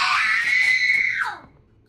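A person in a horror co-op game lets out a long, loud, piercing scream that holds steady for over a second, then bends downward and cuts off into quiet.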